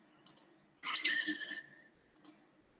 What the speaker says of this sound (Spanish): se siente el tecleo